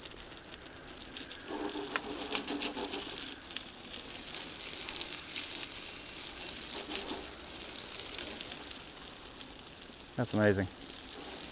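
Running water rinses an item outdoors, a steady gushing, splashing wash that fills the clip, with a brief clatter near the end and a voice speaking once.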